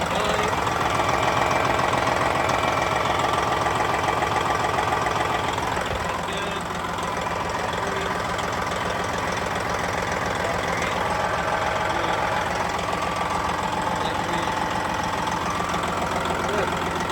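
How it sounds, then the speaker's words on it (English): A truck engine with an exhaust leak idles steadily and loudly close by, its low rumble and knocking continuing throughout while voices talk faintly over it. "Exhaust leak."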